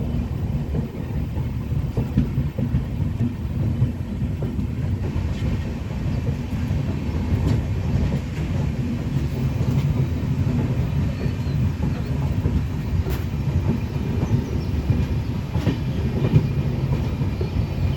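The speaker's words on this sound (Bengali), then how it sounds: "ঐতিহ্যবাহী দার্জিলিং মেল হলদিবাড়ি স্টেশনে প্রবেশ প্রবেশ করছে" The Darjeeling Mail passenger train rolling into Haldibari station with a continuous low rumble and faint rhythmic clacking of wheels, steady throughout, no talking.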